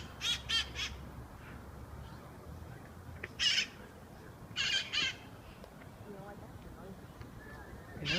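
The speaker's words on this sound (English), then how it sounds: "They're green parrots with like a red cap." Green parrots with red caps squawk at Coit Tower: harsh, raspy calls come in a few short bursts, clustered at the start and middle, over a soft outdoor background.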